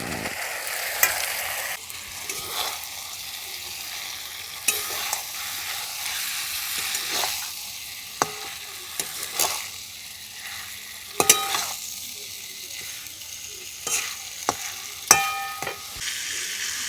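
Fried pointed gourd pieces being stirred in a hot pan for mouri potol, a soft continuous sizzle broken by intermittent sharp scrapes and taps of a spatula, close up and without speech.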